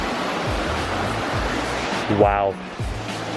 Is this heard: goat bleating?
no